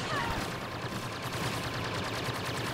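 Rapid blaster fire crackles in Star Wars Battlefront, a dense continuous volley of shots at low level with a faint voice mixed in.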